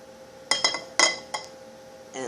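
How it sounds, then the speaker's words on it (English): Metal skillet set onto a hurricane stove made from prayer candles, a few sharp clinks and clanks of metal against glass in quick succession, close and clear without speech. "actually I'll put the skillet on the thing now"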